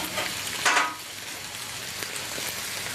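Food frying in oil is stirred, giving a steady close sizzle with a brief scraping rustle of stirring near the start, and no talking.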